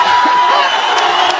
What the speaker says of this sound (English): The crowd roar as these two go to war.